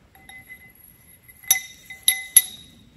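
A metal nut slides onto the rod of a rebuilt Allis Chalmers WD45 tractor hydraulic cylinder, giving a few faint scrapes and then three sharp, ringing metallic clinks close by.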